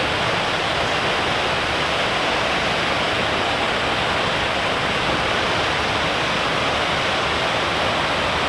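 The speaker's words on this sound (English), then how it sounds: "Waterfalls." A waterfall in Hawaii pours in a steady, dense broadband roar of rushing water that holds constant throughout, loud and close with no voices.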